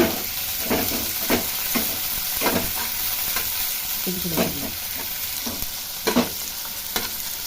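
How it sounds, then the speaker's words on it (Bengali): Chopped onion stirs and fries in a hot pan, with a steady loud sizzle under repeated scraping strokes of a spatula, close by and without talk. "এবারে একটু হালকা নেড়ে নিব। নাড়ার পরে হালকা নাড়ার পরে আমি এখন পেঁয়াজ কুচি দিয়ে দেবো এর ভিতরে। পেঁয়াজটা একটু নেড়ে নিব।"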